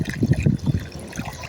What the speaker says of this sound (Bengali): সিনিয়র সব তেল ভরতে আছে।